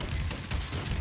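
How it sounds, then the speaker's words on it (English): Bombing run explosions in Call of Duty: Advanced Warfare multiplayer, a dense continuous rumble of booms and bursts rolling through the whole second with no pause, loud and close. "Bombing run."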